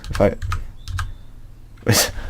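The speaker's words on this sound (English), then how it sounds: "you literally just end up tapping keys until eventually one works" Computer keyboard keys are tapped repeatedly while playing a puzzle platformer game: a handful of separate, sharp clicks spaced unevenly, with a voice talking over them.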